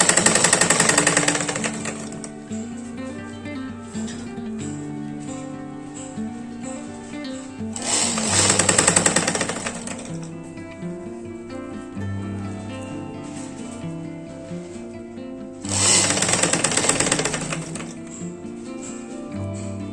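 A sewing machine stitches golden lace onto a blouse in three separate bursts of rapid mechanical whirring, each about two seconds long, spread across steady background music.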